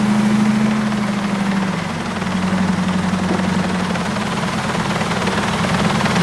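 A steady, loud video game helicopter drone overhead with a deep rotor hum persists throughout, close and continuous with no other sounds.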